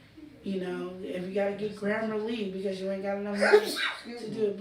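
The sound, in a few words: sneeze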